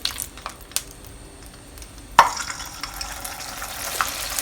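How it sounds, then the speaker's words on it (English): Pieces of pork drop into hot oil in a wok, giving a sharp burst of sizzling after a few faint clicks, then a sustained crackling fry that carries on quietly alone. "We are now prepared to fry the pork."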